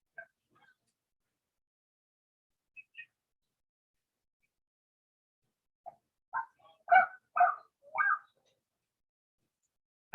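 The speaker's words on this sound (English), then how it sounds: "I hear a dog barking." A few short barks in quick succession, moderately distant, following a stretch of near silence with a couple of faint brief noises.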